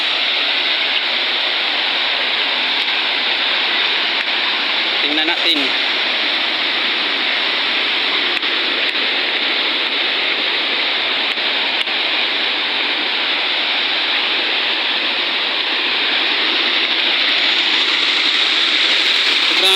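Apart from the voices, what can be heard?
water flowing into the barangay water tank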